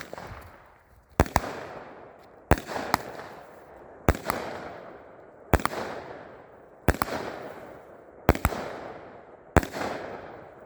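A 200 gram consumer firework cake fires aerial shots, a steady sequence of about seven sharp launch thumps followed by crackling bursts, spaced roughly one and a half seconds apart, heard at a moderate distance with no talking.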